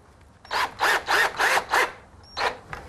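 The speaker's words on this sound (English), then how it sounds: "now Darrell's going to go ahead and screw from the top down" A power screwdriver drives screws down through the top of a custom window frame, five quick whirring bursts in a row, then a pause and one more short burst, close and loud with no talk.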